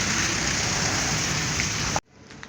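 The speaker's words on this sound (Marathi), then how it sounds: "पाऊस परत सुरू झालेला आहे" Rain falls as a dense, even hiss for about two seconds, then cuts off abruptly, leaving near silence.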